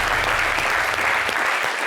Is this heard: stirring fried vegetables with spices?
no